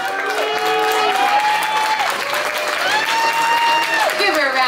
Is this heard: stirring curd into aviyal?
no